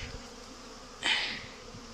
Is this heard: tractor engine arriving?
no